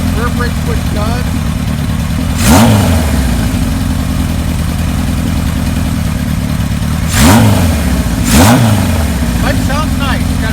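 A 1978 Kawasaki KZ1000 LTD motorcycle with a Kirker header idles with a loud, throaty rumble close by, broken by three sharp throttle blips that rise and fall, two of them in quick succession near the end.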